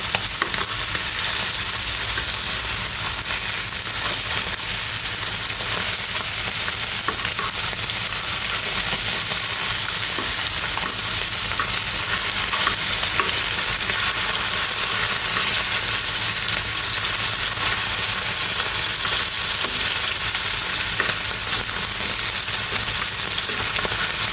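Puthi river fish fry in a pan of hot oil, giving a loud, steady, dense crackle and hiss that runs unbroken throughout, with faint stirring touches and no voices.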